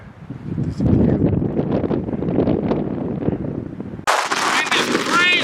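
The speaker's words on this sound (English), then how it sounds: "50-mile-an-hour wind. Almost blowing me over." Strong mountain wind at about 50 mph buffets the microphone in loud, gusty roaring bursts that shift abruptly partway through.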